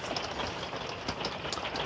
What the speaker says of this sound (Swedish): Jag tror att det har regnat hela natten, va?